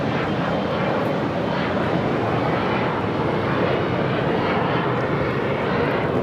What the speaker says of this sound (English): 5844 taking off to Austin on the E175